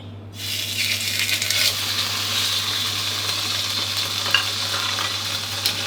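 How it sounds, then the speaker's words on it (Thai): Salmon steak hits hot oil in a pan and begins a loud, steady sizzle and crackle, continuing evenly with a low hum beneath. "พอกระทะน้ำมันร้อนจัดได้ที่ครับก็ ปลาแซลมอนสเต็กของเราครับใส่ลงไปได้เลย"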